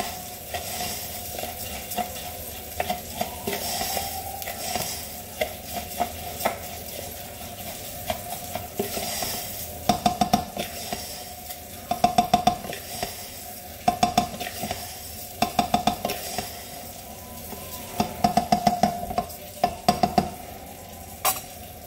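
Tomato hitting a hot pan while Spanish-style lemon jasmine rice cooks, a steady close sizzle running under repeated stirring scrapes and light clinks of utensil on cookware, with no talking.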